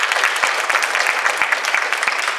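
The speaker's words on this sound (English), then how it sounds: "So please give her a round of applause." Lively audience applause at a community panel, many hands clapping close and loud with a few sharp individual claps standing out, continuing steadily throughout.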